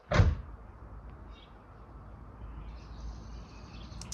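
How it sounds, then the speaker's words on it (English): A car door shuts once with a sharp, close thud, then a quiet interior hush follows with faint ambient noise. "So I close the door"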